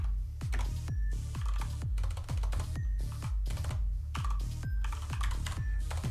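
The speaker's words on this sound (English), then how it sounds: "come on, what the hell is wrong with my typing?" Rapid keyboard typing, a run of crisp individual key clicks in uneven bursts, close and fairly quiet, with no voices.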